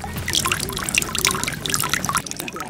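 Steady dripping and trickling of seawater through an ash filter in salt-making in Guimaras, Philippines, many small drops falling close by in a continuous patter.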